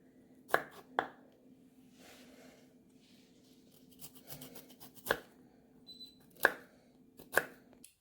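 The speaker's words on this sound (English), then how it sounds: "I just cut it pretty small, and then I just get rid of the extra stem part." Vegetables for mustard pickles, including peppers and cucumbers, are chopped with a knife on a cutting board in a quiet kitchen: sharp, separate thunks spaced irregularly, close up, with softer scraping between.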